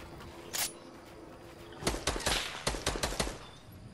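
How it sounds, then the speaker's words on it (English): Gunfire in the Fortnite video game: a rapid cluster of sharp shots after a single early crack, firing in quick bursts at close range with no talking. "They're shooting at me."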